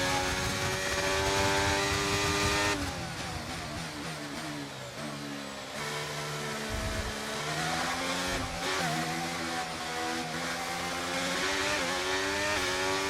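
Howling F1 race car engine in the F1 23 racing game, loud and sustained throughout, with pitch climbing and dropping through rapid gear shifts and a brief lift around the middle before revving back up.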